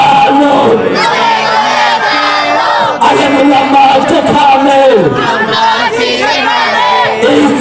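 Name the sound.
crowd chanting takbir (Allahu Akbar) at an Islamic rally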